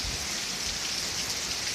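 Heavy rain pours down during a thunderstorm in Ohio, a dense, steady hiss of drops hitting surfaces that stays loud and unbroken throughout, with no voices.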